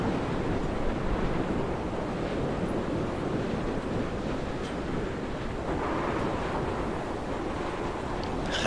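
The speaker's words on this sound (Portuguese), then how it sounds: "Rajada de vento mesmo." A strong gust of wind buffets the microphone on a desert island shore during a storm, producing a steady, loud broadband roar for the whole stretch, with surf-like wash beneath and no voices.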